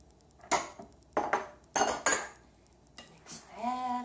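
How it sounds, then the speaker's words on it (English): Spoon scraping and clinking against a bowl while salsa with onions is stirred, several short sharp bursts in uneven rhythm, close up, with a brief voice at the end. "Mix that up."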